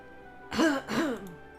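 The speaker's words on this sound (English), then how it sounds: "hides a cough behind his glass" A single short cough or throat clear, two quick rough bursts close by, with quiet surroundings.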